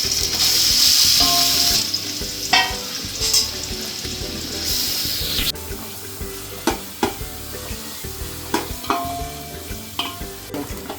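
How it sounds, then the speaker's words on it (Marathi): Finely chopped onion hits hot oil in a pan for a chicken biryani gravy, starting with a bright, loud sizzle and followed by repeated stirring scrapes and clatters as the frying settles. "त्याच्यामध्ये आपण कापलेला अगोदर बारीक चिरलेला कांदा टाकून घेऊ."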